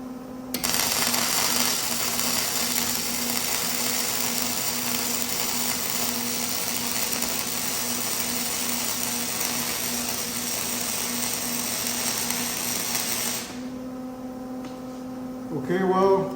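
Welding 1/8 inch steel with the settings too cold makes a steady, close, crackling buzz over an electrical hum that runs unbroken for about thirteen seconds, then cuts off and leaves the hum.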